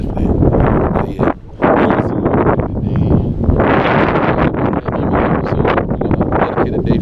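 Strong wind buffets a bass boat on open water two days after Hurricane Helene, roaring steadily and close throughout with brief dips in the gusts, and faint voices are audible beneath the noise.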